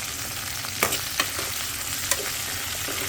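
Cumin seeds and unpeeled garlic cloves fry in oil in a pan for a pottu pachadi, giving a steady, close sizzle with a few sharp stirring clinks and no voices.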